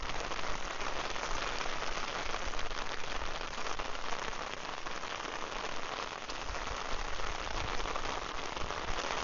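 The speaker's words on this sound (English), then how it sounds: "It ended up to be a rain walk" Steady rain patters on surfaces during a morning walk at Bangwad Reservoir in Phuket, Thailand: a dense, even hiss of drops throughout, with no other sounds standing out.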